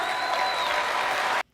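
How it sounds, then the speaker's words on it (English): An audience bursts into steady applause with some crowd noise, a fairly faint, even clatter of clapping that runs for over a second, then cuts off abruptly into silence. "So thanks for those people for applauding."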